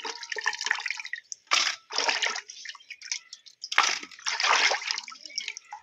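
Pieces of meat are rinsed by hand in water, giving irregular bursts of splashing, sloshing and dripping with brief quiet gaps between them, close by.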